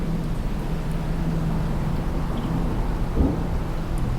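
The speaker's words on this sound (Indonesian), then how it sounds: "dengan hujan yang sangat deras, petir" Dense, constant low rumble of heavy rain with deep thunder-like roll throughout, steady and enveloping with no voices.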